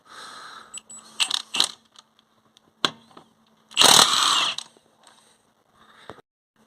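Short, loud bursts of a power tool, like an impact wrench, removing wheel nuts from a raised Vauxhall Corsa D, rattling on and off between quiet pauses, with metallic clinks and a longer buzzing burst.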